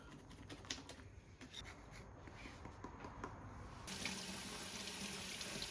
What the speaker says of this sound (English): Next, you obviously wash your cos lettuce.